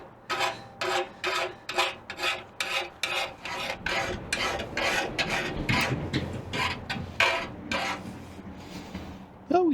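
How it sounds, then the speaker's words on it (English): Repeated rasping strokes of a small circular deburring tool run around the burred edge of a hole saw cut, a steady rhythmic scraping series close up with no talk. "I would just use a little circular deburr tool on this guy and just, you know, give it a little run around"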